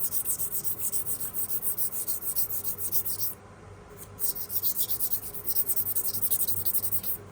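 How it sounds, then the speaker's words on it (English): Rhythmic back-and-forth strokes of light sanding along a leather edge, close and even, pausing briefly midway before resuming at the same steady pace. "Just a light sanding now."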